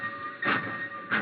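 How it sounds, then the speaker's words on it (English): A black train departs and rumbles along nearby, with two heavier clacking bursts as wheels pass over rail joints, in a radio drama. "He watched the black train."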